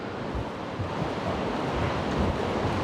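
Strong wind roars across the deck of a Norwegian Encore cruise ship in Alaskan waters, with ocean waves and sea spray crashing below, a loud, continuous rush with heavy wind buffeting on the microphone.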